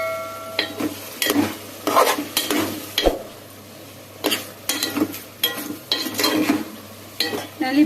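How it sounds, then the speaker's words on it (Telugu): Sambar vegetables stirred in a pan over a medium flame, repeated scraping and clattering strokes of a spoon against the metal, close and fairly loud, with a low sizzle underneath. "ప్లేట్ తీసుకొని మళ్ళీ కలబెట్టుకున్నాం ఒకసారి."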